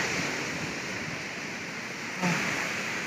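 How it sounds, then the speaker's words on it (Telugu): Small waterfall beside a trekking trail on Harichandragad in Maharashtra, heard as a steady, moderate rush of falling water, with a brief louder swell near the end. "వీటి ఒక చిన్న వాటర్ ఫాల్ ఉన్నది"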